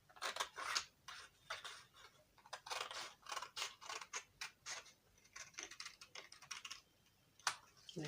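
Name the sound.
scissors cutting out a paper corset pattern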